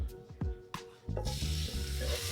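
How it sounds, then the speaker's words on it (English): Pork chops drop into a hot oiled pan with a thump and burst into a loud, steady sizzle of frying oil, with a few clinks of utensils at the start. "Hear that nice sizzle as soon as it gets in the pan."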